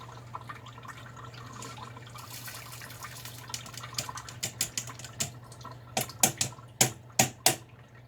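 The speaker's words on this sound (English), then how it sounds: "Now here goes the lentils." Dry lentils poured into a pot holding about two quarts of water for soup, building into a run of sharp, splashy patters and drips that grow louder and more spaced toward the end, close and with no talk.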